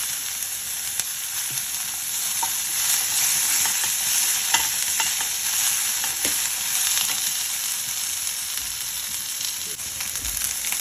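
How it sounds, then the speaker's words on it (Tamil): Curry leaves, a dried red chili and onion tempering in hot oil, giving a steady dense sizzle with scattered crackles and spoon scrapes, close and continuous with no talking. "கொஞ்சம் கருவேப்பிலை, ஒரு வரமிளகாய் வந்து ஒரு 2 மிளகாய் தாளிச்சுட்டு தேவையான அளவு கொஞ்சமாக வெங்காயம்."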